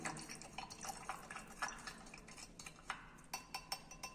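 A spoon stirs alcohol into water in a glass, giving light clinks and taps against the glass along with soft liquid swirling, quiet and close, with the taps growing more distinct toward the end.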